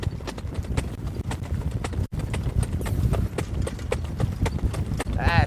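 Green young racehorses on a training track, their hooves clip-clopping in a steady repeated rhythm at close range, with a person talking over the hoofbeats throughout.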